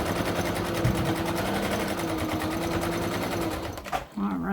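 Sewing machine running continuously while stitching an armchair caddy, a loud, even mechanical whir that stops abruptly near the end, followed by a brief clatter.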